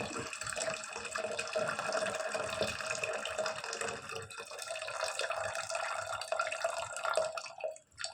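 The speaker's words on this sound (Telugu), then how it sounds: "చిన్నగా నీళ్ళు వంచుకుంటాం." Water is poured off from a cooking pot without a strainer, a continuous splashing trickle running for several seconds before tapering off near the end.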